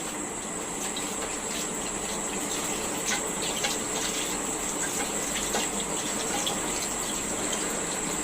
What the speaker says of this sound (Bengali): একটু ধুয়ে নেই, মাছগুলো কি পিচ্ছিল?